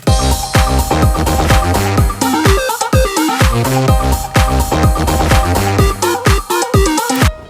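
Hardstyle EDM drop melody from a producer's Ammunizers project, loud and dense, with punchy distorted kicks and a bright synth lead pounding in steady driving rhythm throughout, no voices.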